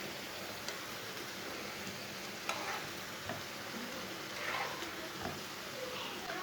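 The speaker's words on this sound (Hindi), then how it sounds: "अब दोनों साइडों से उल्टाते हुए पका लेंगे, बस इसे जलने नहीं देना" Potato kebab snacks sizzle and fry in a pan as they are turned, a steady crackling hiss with occasional small stirring clicks, close by with no talking.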